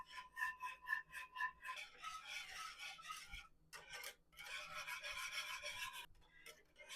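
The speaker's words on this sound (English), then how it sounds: "We need to cook on the lowest heat. Stirring constantly" Pastry cream stirred constantly in a saucepan over the lowest heat, with a close, soft scraping and rasping of the utensil against the pan in repeated strokes and brief pauses. No one speaks.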